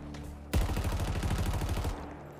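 Rapid automatic gunfire in a video game bursts in abruptly and keeps rattling as a dense, steady stream of shots for about a second and a half before cutting off, loud and close with no talking.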